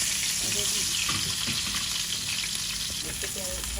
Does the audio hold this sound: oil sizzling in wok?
yes